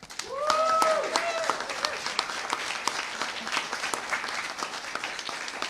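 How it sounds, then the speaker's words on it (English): Applause at a congressional press conference, a burst of clapping that continues steadily for several seconds, with a short whistle-like tone near the start. "I would like to applaud the women's staff."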